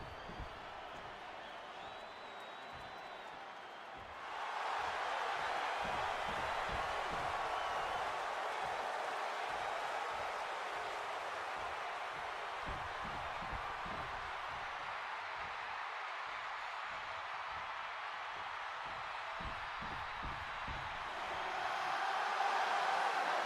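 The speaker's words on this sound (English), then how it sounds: "this capacity crowd just exploded" A capacity arena crowd in WWE 2K26 roars for a Seth Rollins versus CM Punk match, starting as a low murmur and swelling into a sustained, loud wash of cheering with rhythmic thumps underneath.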